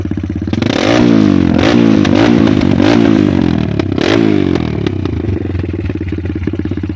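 A modified rally race motorcycle fitted with an Apache 180 engine, revved hard up close in several sharp rising bursts over a loud, rattling idle, then settling back to a clattering idle.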